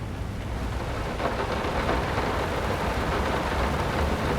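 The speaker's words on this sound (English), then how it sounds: "It was heavily raining." Heavy, steady rain with low thunder rumbling in the video game Layers of Fear, a dense, loud wash of downpour that stays constant throughout with no voices.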